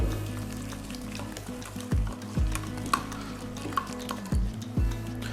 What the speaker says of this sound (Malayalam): ഇതെല്ലാം കൂടി ഇട്ടതിന് ശേഷം നമുക്ക് നന്നായിട്ടൊന്ന് മിക്സ് ചെയ്തെടുക്കാം